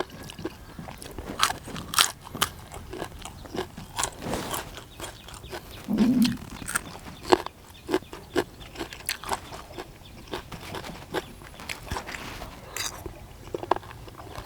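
Close, wet crunching and chewing of spicy pounded apple snails with crisp bitter gourd continues with irregular bites and crackles, with an occasional murmur between them.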